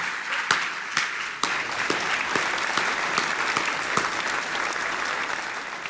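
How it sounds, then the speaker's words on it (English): A final round of applause at an awards show for the top-rated winners, a dense steady roar of many hands with a few sharp claps standing out, sustained throughout. "one final round of applause for all those taking the highest ratings today"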